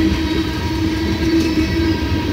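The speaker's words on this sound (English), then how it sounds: "These ethanol trains" A CSX ethanol freight train led by two SD70 locomotives, one of them flared, rolls past Reals Mill Road. It makes a loud, close, continuous rumble with a steady engine hum and faint rail clatter, and no one talks.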